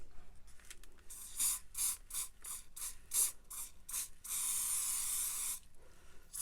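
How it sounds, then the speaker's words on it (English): Hairspray hisses in short repeated bursts onto a junk journal page, then one longer sustained spray, close and loud with brief gaps between pumps. "So to seal that shine in, we need to use the hairspray."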